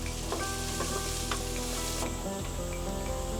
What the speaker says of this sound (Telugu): ఉల్లిపాయ కొంచెం దోరగా వేగనిద్దాం.